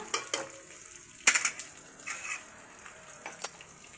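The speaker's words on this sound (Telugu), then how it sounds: "మనం దాంట్లో ఏమైతే వేసామో అదే హోల్ బిర్యానీ మసాలా వేసేసుకొని అవి చిట్టపట్లాడాలి." Whole biryani spices crackle in hot oil in a pan: sparse, quiet pops and sizzles with a few sharper bursts and light clinks of stirring against the pan.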